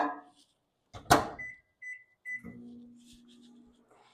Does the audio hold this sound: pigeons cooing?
no